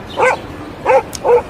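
A person imitates a boxer dog barking, three short gruff woofs with brief pauses between them, close and fairly loud with no other sounds.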